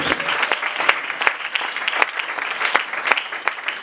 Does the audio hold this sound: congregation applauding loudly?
yes